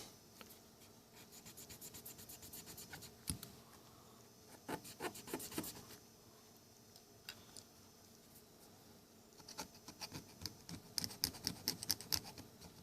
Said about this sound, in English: Clean this too, this bearing. We'll use the brush for that.